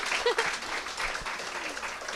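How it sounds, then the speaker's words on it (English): A fan event audience for a Suicide Squad parody applauds, a dense, steady wash of clapping that fills the whole stretch at moderate loudness, with faint voices mixed in. "round of applause for our extras, everyone"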